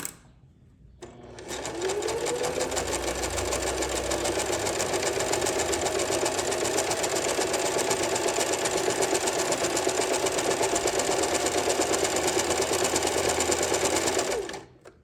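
A sewing machine runs steadily for about thirteen seconds while stitching a buttonhole without a buttonhole foot, a close, even mechanical whir that starts and stops abruptly with no talking.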